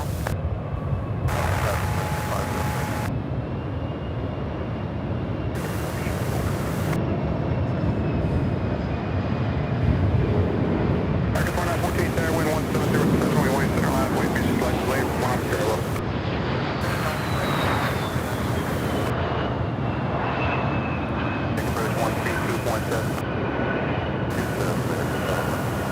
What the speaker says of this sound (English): runway 18 left, clear for takeoff